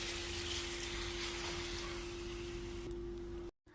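Water pours steadily into a pan of soya chunks being cooked into a pepper fry, a continuous close splashing rush that cuts off abruptly near the end, with no talking.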